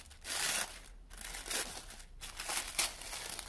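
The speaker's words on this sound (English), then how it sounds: "Let's take this off. It's hard to get this tape off." Tape being pulled off a taped-shut jewelry package, a few short bursts of crinkling and tearing close by, fairly quiet with brief pauses between pulls.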